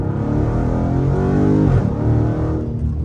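A Dodge Charger SRT Scat Pack accelerates hard from inside the cabin, a loud continuous engine roar climbing through the revs, a short dip at a gear change, then pulling again.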